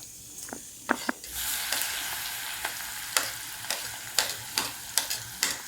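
Garlic, crushed chilli and asafoetida hit hot oil in a pan for a spinach dish, giving a soft continuous sizzle punctuated by sharp crackles and pops at irregular intervals, close and moderately quiet.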